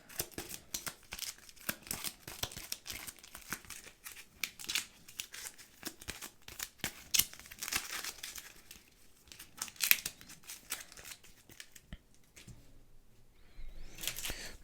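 Cards from a Star Wars: The Clone Wars board game are shuffled by hand at close range, a long run of quick papery riffles and crinkly flicks, soft and without talk.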